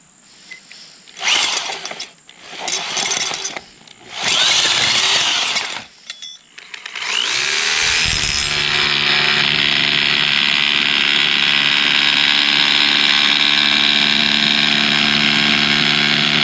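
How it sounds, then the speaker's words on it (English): Power drill run in a few short on-off bursts, then held in one long, loud, steady whine that carries on to the end. "Maybe I'll try just drill for a minute."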